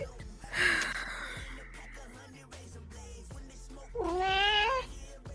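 A cat meows loudly and close by, once early and again in a longer, drawn-out cry toward the end, with quieter rustling between the two calls.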